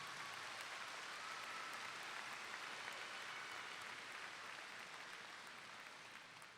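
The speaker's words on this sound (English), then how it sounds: "let's give your fearless leader, Maritza Bailey, a big round of applause for tonight's achievements" Sustained applause from a graduation ceremony audience fills the space steadily, loud at first and easing slightly toward the end, with no talk over it.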